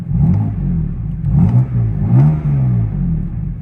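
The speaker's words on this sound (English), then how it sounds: "if I just give it a little rev" A BMW F82 M4 engine revs up in a few short blips, loud and close, with deep rumbling pulses rising and falling, and no one talks over it.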